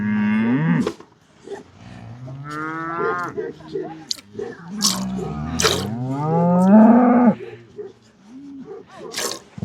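A cow being milked by hand moos repeatedly at close range, with long, drawn-out calls of rising and falling pitch spread across the clip and a few sharp snorts in between.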